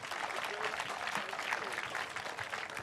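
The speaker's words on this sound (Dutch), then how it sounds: "Maar eerst even een applaus" A village audience in Minnertsga applauds in a short, dense, steady burst of clapping that stays even throughout, with faint voices mixed in.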